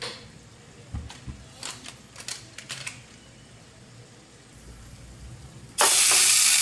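Butter tempering for pav bhaji goes into a hot pan. After some scattered light taps and clicks, a sudden loud, steady sizzle bursts out close up near the end, with no talking.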